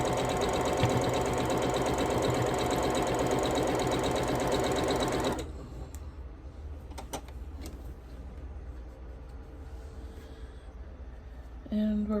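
Sewing machine chain piecing quilt patches, a steady loud mechanical whir running for about five seconds before cutting off, then quiet handling sounds and a brief return at the end.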